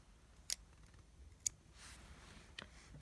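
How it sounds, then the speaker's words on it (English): Scissors snip off crochet yarn, two sharp close clicks about a second apart and a fainter third near the end, over a quiet background with no talking. "So I'm just going to do 2 chains and cut off my yarn."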